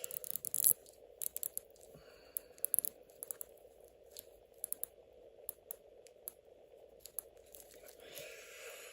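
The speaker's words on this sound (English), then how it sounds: "You can actually hear a decent clicking mechanism in there." Quiet series of small, sharp clicks from the rotating bezel of an Invicta 29179 Pro Diver watch, irregularly spaced over a faint background hum.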